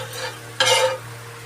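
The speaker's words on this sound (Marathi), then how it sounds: "आता आपण घालून घेत आहोत बटर" Butter sizzles in a pan for a veg potato frankie, a sudden hiss flaring up partway through over a low steady hum, then settling into a softer fry.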